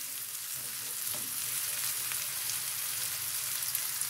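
Vegetables for a börek filling frying in a pan while being stirred, a dense continuous sizzle with light scraping of the utensil throughout, close and fairly loud.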